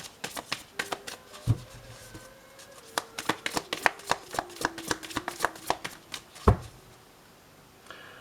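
Tarot cards being shuffled by hand, a quick run of crisp riffling snaps and flutters with a few heavier taps, close and fairly quiet, with no talking over it.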